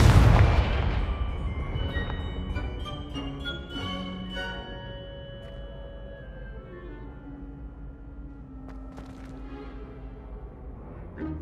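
Confringo fire spell blasting in Hogwarts Legacy: one sharp, loud explosion at the start, then a long decaying rumble with ringing tonal game sounds lingering afterward.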